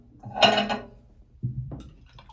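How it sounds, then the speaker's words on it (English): A utensil scraping and clanking against a cooking pot while food is stirred, one louder metallic scrape followed by a softer second one, close by and without talk. "Stir it a little bit, get all that good stuff out the bottom."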